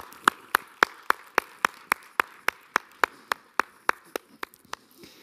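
Clapping for five imams at a round-table event, heard as sharp, evenly spaced claps in a steady rhythm, close and distinct, with one or few hands rather than a dense crowd.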